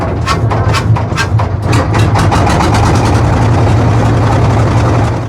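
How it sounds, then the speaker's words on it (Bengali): A river trawler's engine runs loudly and steadily close by, with a low, continuous drone and a rapid, regular pulsing chug. It carries on unbroken throughout, with no voices over it. "অবশেষে আমাদের ট্রলার ছেড়ে দিল"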